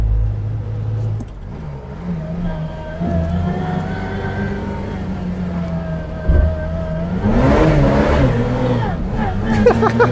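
A Reliant Fox's small engine drones and then revs harder as the car struggles for traction on a mid-Wales beach track. The engine note rises and strains near the end, with a voice talking over it.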